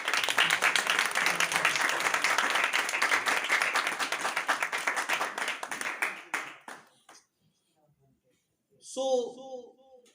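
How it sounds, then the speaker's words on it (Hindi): A church congregation claps loudly for the pastor, a dense sustained burst of applause that tapers off after about six seconds, followed by a brief pause and then a short voice. "मैं चाहता हूँ आप पास्टर साहब के लिए ज़ोरदार तालियां लगाएं"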